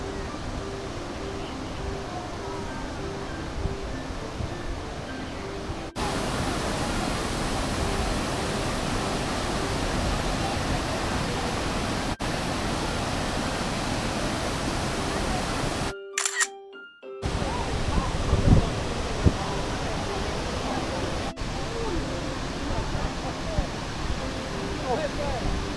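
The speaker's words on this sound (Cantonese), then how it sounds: "行咗5分鐘，開始見到瀑布啦。" Huangguoshu Waterfall in Guizhou roars as a constant, dense rush of falling water heard from a riverside path, with a brief dropout midway and faint voices at times.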